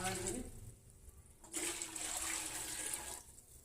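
Water is poured into a cooker holding rice for coconut rice, making a rushing, splashing pour that starts abruptly midway and runs for a couple of seconds before easing off.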